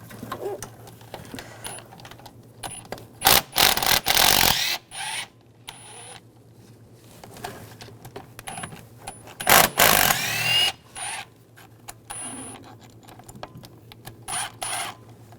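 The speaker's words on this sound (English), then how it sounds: "Just use the same E10 socket. Take that bolt out. Take the other two bolts out." An E10 socket backs bolts out of a bracket on a 2006-2009 Mercedes-Benz E350 3.5L V6, giving quick bursts of close ratchet clicking separated by pauses, with faint background hum and no talking.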